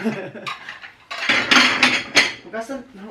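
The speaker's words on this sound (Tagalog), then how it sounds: "magligpit tayo ng ating mga nahugasan na" Washed dishes are put away, with close, bright clinks and clatters of plates and cutlery in quick bursts, some soft rustling between.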